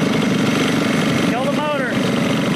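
A race vehicle's motor idles steadily and loudly close by on championship day at a race meet, a constant rumbling drone, with a voice briefly heard over it.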